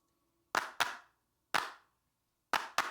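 Handclaps in a song's final chorus, five sharp, close, isolated claps in a loose pattern: a pair, a single, then another pair, each ringing briefly against silence.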